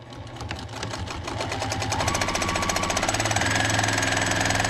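Sewing machine stitching a seam on a patchwork Christmas stocking, a steady rapid needle rhythm that builds in speed and runs continuously, close and clear with no talking.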